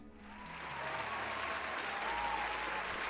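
A round of applause rises and holds as steady, dense clapping from a group, loud and continuous at the close of a D&D homebrew review, with no talk over it.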